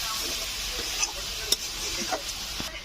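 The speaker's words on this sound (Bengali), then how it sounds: "নাড়া দিতে থাকতে হবে মাঝে মাঝে" Elephant foot yam stalks sizzling as they fry in a pan, with a spatula stirring and scraping in occasional sharp taps over a steady close hiss.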